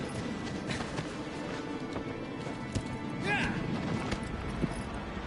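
Galloping hooves drum rapidly under a dense layer of Shadow of the Colossus game sound effects, with a brief horse whinny in the middle.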